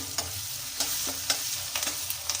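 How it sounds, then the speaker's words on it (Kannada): Potato poha with peanuts, chana dal, urad dal, mustard seeds, curry leaves and green chillies fries in oil in a pan under a steady soft sizzle, with a spoon scraping and stirring in quick, regular strokes close by. "ಪೋಹ ರೆಡಿ ಆಗ್ತಾಯಿದೆ. ನೋಡಿ, ಎಲ್ಲ ಹಿಂಗೆ ಹೊಂದ್ಕೊಳ್ಬೇಕು. ನೋಡಿ, ಎಣ್ಣೆ ಬಿಟ್ಕೊಳ್ತಾ ಇದೆ."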